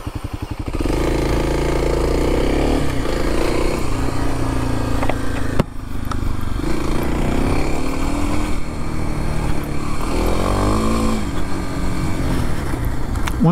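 A 2021 Kawasaki KLX300 dual sport motorcycle ridden on a dirt trail, its single-cylinder engine loud and close, droning steadily and rising and falling with throttle and gear changes.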